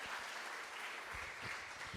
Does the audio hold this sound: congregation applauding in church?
yes